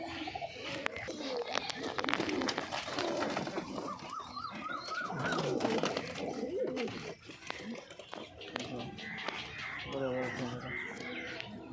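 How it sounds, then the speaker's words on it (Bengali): Pigeons of fancy breeds cooing in a loft, soft repeated coos with some other bird calls, heard under nearby people talking. "তো দেখি আপনার কাছে কিরম ভালো ভালো ব্রিডের পায়রা আছে"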